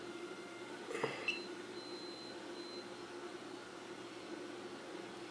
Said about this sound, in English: Very short beep right there.